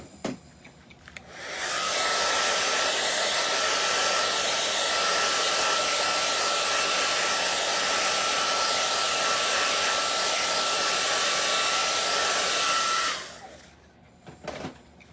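A hair dryer blows steadily on wet paint on a wicker heart, switching on after a moment and running loud and even for about twelve seconds before cutting off.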